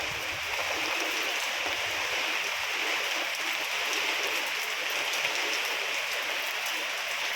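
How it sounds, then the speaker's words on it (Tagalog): Heavy typhoon rain pours steadily in a flooded area of Taiwan, a dense, continuous hiss at constant loudness with no wind gusts, heard alone without talk throughout. "Malakas ang ulan guys, pero wala ng hangin."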